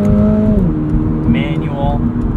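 2022 Toyota GR86 automatic accelerating in sport mode with traction control off, engine note rising through the gears, with a shift partway through, loud and close from inside the car as someone talks over it.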